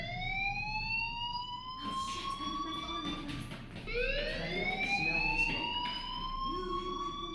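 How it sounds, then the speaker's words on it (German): A fire alarm in the video game Life is Strange wails continuously in rising electronic sweeps, fairly loud and steady, with muffled background noise underneath. "Hey, do you hear that fire alarm?"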